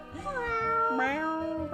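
A cat meows in the Nancy Drew: The Secret of the Old Clock video game, one long drawn-out call with a rising and falling pitch that carries through the clip, close and clear, with no one talking.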